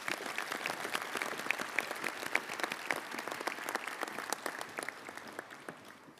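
A crowd at the Jackson Madison County Sports Hall of Fame 2024 banquet claps for an honoree, with crisp individual claps standing out in a steady round that gradually thins and tapers off.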